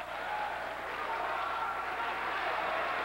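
A full house of about 1,500 at a New Trier Trevians high school ice hockey game in Wilmette, roaring steadily after an icing call: a dense, sustained mass of cheering and clapping heard from within the arena.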